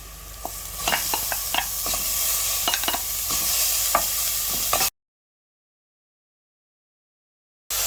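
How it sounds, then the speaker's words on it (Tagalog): Minced lamb meat frying in a hot pan after golden-browned aromatics, a strong sizzle with repeated clacking spatula strokes while it is stirred, then a stretch of silence before the sizzle returns briefly. "Ready to put the minced lamb meat."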